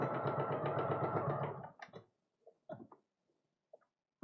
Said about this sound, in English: Now I'm going to sew down right there.